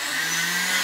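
A kitchen blender runs steadily while struggling to blend thick peanut butter, a constant loud motor whine with no breaks, close by and with no talking.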